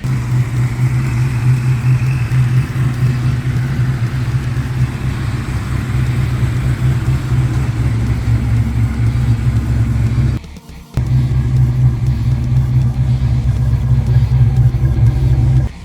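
A black 1990 GT car's engine running steadily at idle, a loud close low rumble that holds throughout with one brief dropout near the end.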